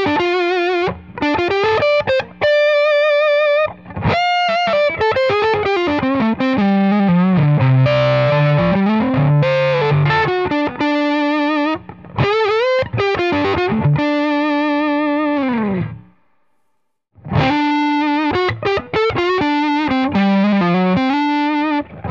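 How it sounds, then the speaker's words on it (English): A PRS McCarty 594 Soapbar electric guitar on its neck pickup with gain plays a fluid, distorted lead line of sustained notes, bends and quick runs, loud and up front, with a brief pause near the end. "on the neck pickup, on the Soapbar, you can really hear the creaminess of that beautiful Soapbar sound with some gain"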